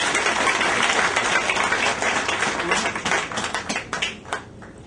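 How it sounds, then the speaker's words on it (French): Audience of Ivorian women at a gathering with Dominique Ouattara bursts into loud, dense applause that gradually thins into scattered individual claps over about five seconds. "Donc je voudrais qu'on vous applaudisse très fort."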